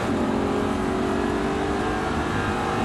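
An Audi R8 engine roars steadily at high revs under full throttle on a driving course, a continuous loud drone with no pauses.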